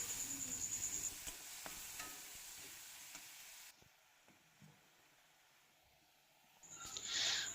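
Spice paste of onion, ginger-garlic and water-mixed masala frying and being stirred in a pan for a mushroom and potato curry, a soft steady sizzle with light scraping that fades midway and then swells again near the end.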